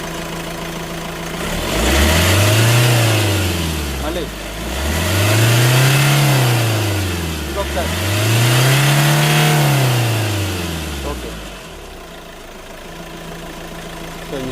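A Hyundai Creta SX(O) diesel engine is revved three times in smooth, rising and falling surges, each climbing and easing back toward idle. The engine sounds loud and close, with people talking briefly over it.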